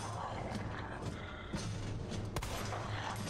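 A single sharp gunshot in Resident Evil 2 Remake cracks out near the middle, loud and brief against a busy, rumbling game background with a duller thump shortly before it.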